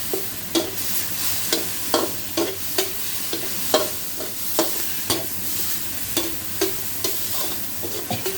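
Minced pork and holy basil are stir-fried in a hot pan, with a steady sizzle broken by regular sharp scrapes of the spatula about every half second, close and clear with no talking.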